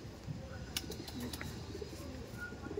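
Andhra pigeons coo softly and faintly at close range, with low throaty calls repeating under a quiet room background and a few light clicks.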